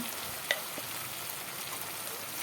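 Ground spice paste cooking with browned onions for an egg curry, a quiet continuous sizzle with a single sharp clink early on and faint stirring, close by with no talking.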